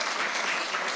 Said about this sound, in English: how about we just give Rose a big round of applause for all of her work